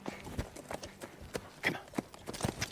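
Horse hooves clip-clop in an irregular series of sharp, close knocks at a brisk walking or trotting pace, with faint background noise between the hits.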